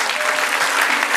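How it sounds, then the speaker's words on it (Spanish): A church congregation breaks into loud, steady applause during a Spanish-language sermon, a dense burst of clapping that fills the whole short moment. "Denle un aplauso al Señor."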